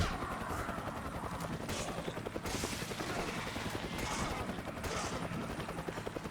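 Rifle gunfire in the video game Resident Evil 5 Mercenaries mode, repeated rapid shots crackling through busy game noise at moderate loudness, with no talk.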